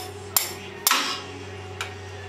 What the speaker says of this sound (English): I'm just going to use this cheater bar, a socket, and smack it a couple times.